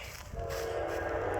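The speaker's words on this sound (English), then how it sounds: "That's an Amtrak, all right." An Amtrak passenger train rolls past a railroad crossing, a steady loud rumble of wheels on rail with a sustained tonal hum rising partway through, no voices.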